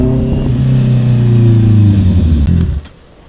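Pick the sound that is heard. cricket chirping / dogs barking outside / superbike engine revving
superbike engine revving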